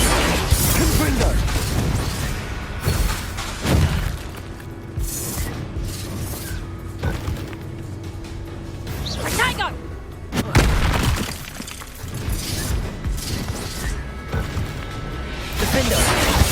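Confringo blasting spells explode with heavy booms and crashes in Hogwarts Legacy, two big blasts standing out among the game's rumbling effects, with voices talking over the action.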